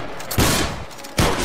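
Massed musket volleys crack out in the game Battle Grounds III during a line battle, two loud overlapping fusillades about a second apart with a rolling roar between them.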